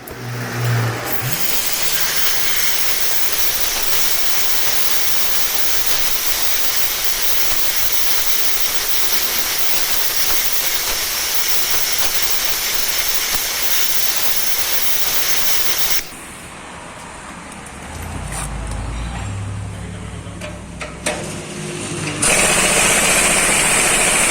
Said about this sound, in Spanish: una opción que nosotros solemos usar en este tipo de casos es calentar la tuerca